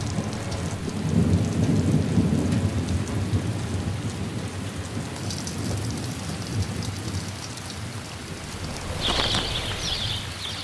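Heavy rain pours steadily in the Inner Hebrides of Scotland, with thunder rumbling low beneath the hiss of drops and a constant wash of rain on surfaces throughout.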